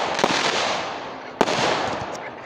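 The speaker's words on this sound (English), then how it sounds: "Round number 2, more fireworks." Fireworks go off in a dense, continuous crackling roar with a sharp louder pop midway, loud and close with no talk.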